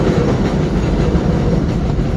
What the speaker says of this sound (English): Zooming in, see the train right there? It's turning, and it's heading to the next train station